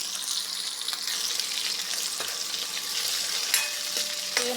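Chopped onions dropped into a spluttering sambar tempering hiss and crackle steadily in hot oil, with a few sharp pops and faint stirring clicks close by.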